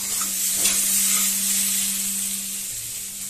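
Vegetables for noodles fry in a hot pan, a loud, close, steady sizzle and hiss while they are stirred, with a low hum running underneath.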